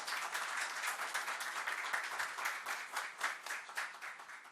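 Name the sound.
audience applause for Dr. Evilásio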